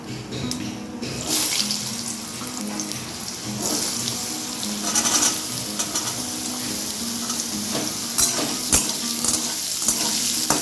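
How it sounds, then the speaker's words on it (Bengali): Potatoes sizzle and crackle in hot oil seasoned with panch phoron, a steady close frying hiss with occasional sharper pops throughout, no talking. "পাঁচফোড়নটা ভালো ভাজা হয়ে গেছে, এবার এতে আমি আলুগুলো ছেড়ে দেবো।"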